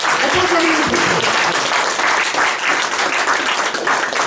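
A church congregation applauding the Lord during a sermon, a dense, loud wash of clapping from many people that lasts the whole moment, with a voice briefly audible at the start.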